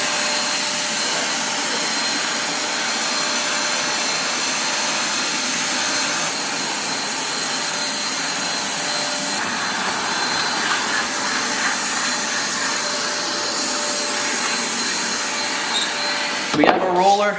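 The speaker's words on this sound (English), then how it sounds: "give it one final sweep, one final shop vac" A shop vac roars steadily and loudly across a garage floor being cleaned before an epoxy coating, the drone holding for the whole stretch before a brief clatter at the end.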